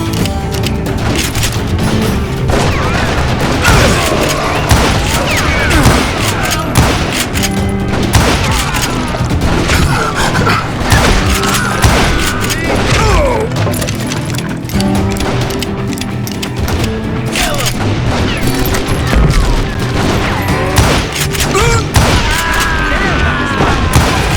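Sustained gunfire and booming blasts from the Western shooter video game Call of Juarez Gunslinger fill the scene, dense and loud throughout amid mechanical clatter and crashes, with faint voices underneath.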